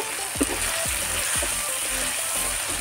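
Ginger-garlic paste frying in oil in a pan for prawn do-pyaza, a steady close sizzle with a few soft scraping stirs near the start.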